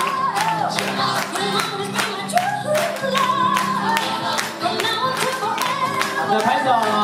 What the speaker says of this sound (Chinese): 好的，拍手。